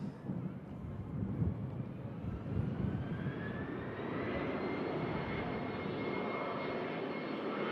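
An Air France Hop regional jet lined up on the south runway at Manchester Airport gives off a steady, fairly distant jet roar that holds at an even level throughout.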